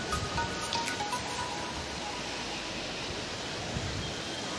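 The Tapti river flows in a steady, even rush of water, a constant broadband wash with no pauses, moderately faint and heard alone.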